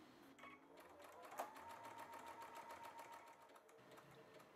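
A sewing machine stitches a grass design onto a small piece of silk fabric, producing a fast, steady mechanical whir of rapid needle strokes that runs continuously at low volume.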